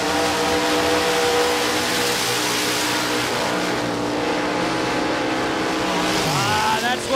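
A Studebaker drag racing car with a 540 cubic inch engine roars steadily at a drag strip, loud and sustained, then pitches down near the end as it comes off the power.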